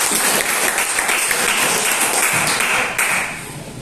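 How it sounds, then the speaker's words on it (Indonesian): Sustained classroom applause for the student groups after their presentations, a steady wash of clapping from many hands that fades slightly at the end. "Kita sekali berikan aplaus kepada semua kelompok."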